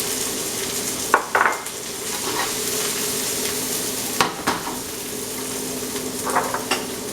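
Green peppers and celery for jambalaya fry in a pan with a steady close sizzle, broken by a few sharp clanks of a utensil stirring against the pan, and nobody speaks.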